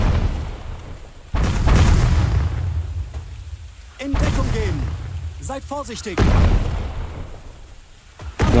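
Grenades explode in the video game Ratten Reich, with several deep booms between stretches of quieter sound, while voices speak and call out in German and English.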